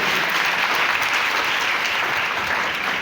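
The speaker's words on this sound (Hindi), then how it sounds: "आप लोगों के प्रति एक बार जोरदार तालियों के साथ स्वागत किया" Enthusiastic applause from a gathered audience welcoming guests at a Hindi-speaking event, a steady, dense roar of many hands clapping that stays even from start to finish.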